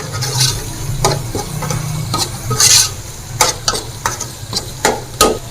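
Ground ginger and crushed coriander masala stirred in a pan for beef kofta curry: loud, repeated scraping strokes over a low sizzle, close by and irregular.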